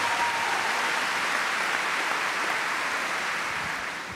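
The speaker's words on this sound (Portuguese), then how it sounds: "Frei Elias, uma salva de palmas a ele." Steady, dense applause from a crowd at a Catholic Mass, sustained and fairly loud throughout, tapering slightly at the very end.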